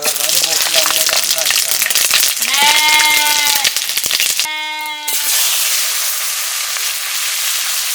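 A goat bleats twice in quick succession, loud and close, amid harsh crackling noise.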